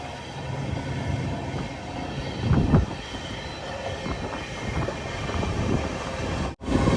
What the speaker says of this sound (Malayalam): ട്രെയിൻ ഇതാ പയ്യന്നൂർ റെയിൽവേ സ്റ്റേഷനിലേക്ക് എത്തിയിരിക്കുകയാണ്